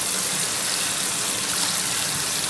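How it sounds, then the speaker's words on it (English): Steady gush of tap water running into a sink during handwashing, a continuous broadband rush at close range with no voices. "now you'll get to wash your hands, scrub for a while"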